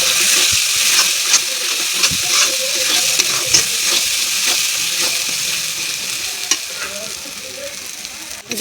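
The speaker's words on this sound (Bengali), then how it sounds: "এই যে মশলা কষানো হয়ে গেছে" Spice masala of coriander powder, bay leaf, garam masala, turmeric, salt and chili powder fries loudly in a pan with an even sizzle, while a utensil stirs and taps against the pan with scattered scraping clicks.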